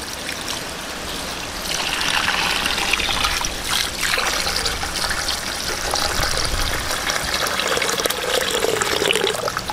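Water is poured into a cooking pot for ox tongue humba, a steady splashing stream that starts after a short pause and runs loud and continuous for about eight seconds with no talking.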